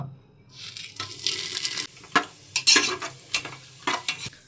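Whole pulao spices go into hot ghee in a pan at home, giving a sudden sizzling hiss followed by close, irregular stirring scrapes and clinks over a continuing fry.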